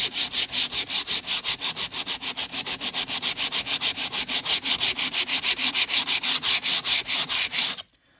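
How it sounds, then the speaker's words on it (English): Steady back-and-forth rasping of hand sanding over wood, dozens of even rhythmic strokes, close and fairly loud, stopping abruptly at the end. "I can stop sanding in that area and move on to another section"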